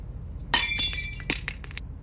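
Glass shatters in a close, bright crash followed by a scatter of tinkling shards and clinks settling over about a second, set against a low steady background hum.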